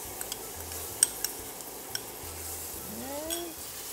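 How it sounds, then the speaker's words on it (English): Onions and garlic fry in a curry pot over a low sizzle, with a few sharp spoon clinks and scrapes against the pan scattered through. "And we're going to let that fry up"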